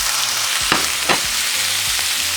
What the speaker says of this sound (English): And we're going to cook our meat now.